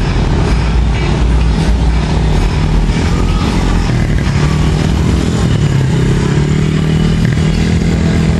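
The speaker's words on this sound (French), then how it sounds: "ma fille Nidia sur la moto." A motorcycle ridden with a child aboard, its engine a loud, continuous close-up drone with some clatter and wind rumble throughout, no talk.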